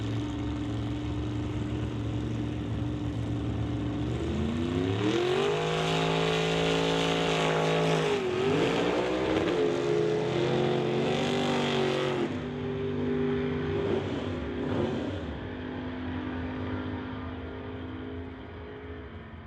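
Drag racing cars, a Plymouth and a Bel Air, roar loudly and steadily at the track, engines climbing in pitch as they launch and accelerate down the strip, then fading slightly toward the end.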